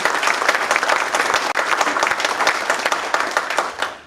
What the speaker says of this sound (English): Y'all should all clap for that.